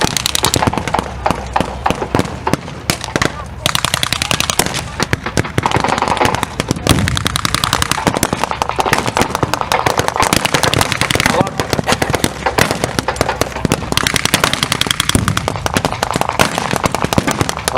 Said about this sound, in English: It would appear as though the Germans are falling back